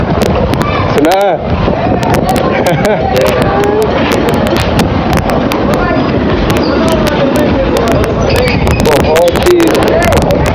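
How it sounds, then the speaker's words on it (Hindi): Strong storm wind in Karachi roars continuously across the microphone, a loud rumbling buffet with a brief gust dip and faint background voices. "बहुत ही तेज हवा चल रही है।"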